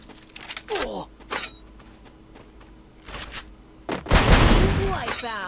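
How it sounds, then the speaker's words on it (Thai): In a Free Fire match, a few sharp gunshots ring out, then a thrown grenade goes off in a loud, close boom with a trailing rumble. "ขอปาระเบิดขอปาระเบิดนะ"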